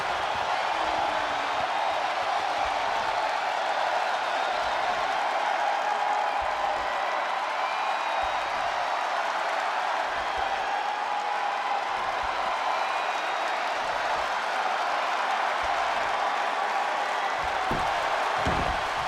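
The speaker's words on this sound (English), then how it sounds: "Every person in this capacity crowd is on their feet." A video-game arena crowd in WWE 2K20 roars and cheers in a dense, constant wash, with no pauses or swells.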